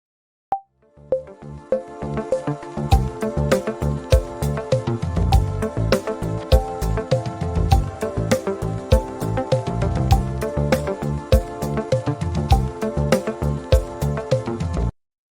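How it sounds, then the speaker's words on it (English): A full drum kit plays a busy fill, dense with toms, snare and cymbals, finishing in a quick run of evenly spaced single snare strokes. "Let's check out how this fill sounds with the single stroke roll at the end."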